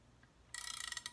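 A spanner tightens a star nut on a Brand-X RD-01 bike using threaded rod, giving a quick run of about a dozen even metallic ratchet clicks after a quiet start, close and fairly crisp.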